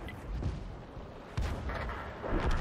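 Deep booms from an M44 self-propelled artillery gun in a tank video game, three heavy shots spaced about a second apart over a continuous rumbling battle backdrop, with no talk.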